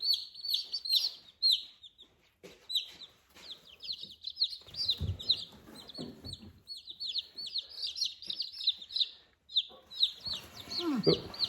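A dense flock of chicks and ducklings peeping continuously in high, bright chirps, close by, with occasional low thumps and rustling underneath.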